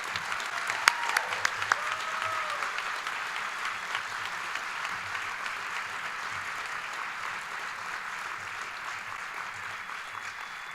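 Audience at a business excellence awards event applauding a Business Hall of Fame inductee onto the stage, steady sustained clapping from a large room throughout with a few louder individual claps near the start.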